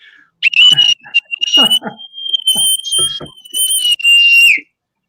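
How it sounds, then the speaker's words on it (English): A shrill, sustained bosun's whistle sounds in long piping blasts that swoop and hold, interrupted by bursts of voices and noise between the notes. "bosun's whistle for the New Englanders"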